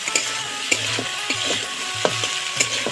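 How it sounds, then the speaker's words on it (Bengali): Spoon stirring potatoes into tomato frying in oil in a pan, a series of scraping strokes every half second or so over a steady close sizzle. "আলুগুলো দিয়ে হালকা নাড়িয়ে নেব যাতে নিচে না বসে যায়"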